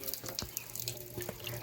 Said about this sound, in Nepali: पानी चाहिँ यसरी आउँछ यहाँबाट चिन्डोबाट